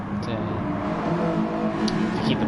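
GT1 race cars, an Aston Martin among them, in a racing video game, engines droning steadily and closely under a voice commentating.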